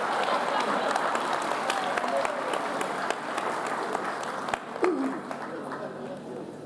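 An audience at a college commencement claps steadily for several seconds, a broad wash of applause with a few cheers and shouts mixed in.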